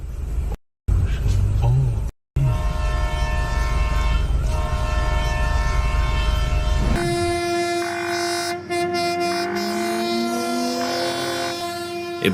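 A train on fire rolls along the tracks with loud, constant rumbling, then a sustained horn blast sounds in long tones over the ongoing rail noise.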